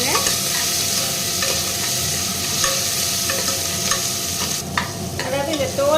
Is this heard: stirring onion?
yes